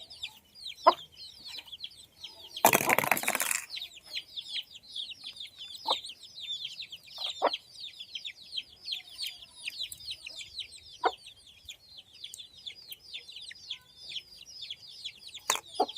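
Faint, repeated high cheeping and soft clucks from young chicks, some of them sick, continue steadily around a poultry yard, with a short burst of rustling noise early on and occasional louder calls.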